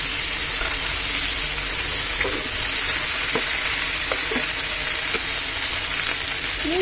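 Vegetable chowmein noodles stir-fried in a pan with vinegar and tomatoes give a loud, continuous hissing sizzle close up, with occasional scraping stirs and no talking.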